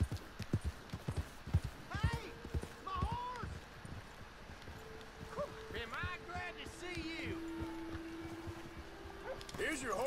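Steady hoof clip-clops from a horse in the video game Red Dead Redemption, mixed with game-style tones and chimes, while a person talks over the top.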